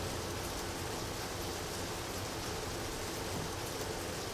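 Rain in the video game Deadly Premonition, a loud, constant broadband wash of falling water that holds steady without pauses, with no voices.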